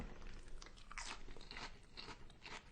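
Crisp iceberg lettuce being bitten and chewed, with dense, crackly crunching close up and fairly quiet, lasting throughout without talk.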